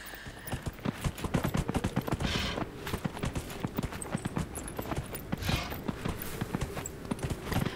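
Steady hoofbeats of a deer mount in Dragon Age: Inquisition, a rhythmic clip-clop of a riding gait that runs evenly and close throughout at moderate volume.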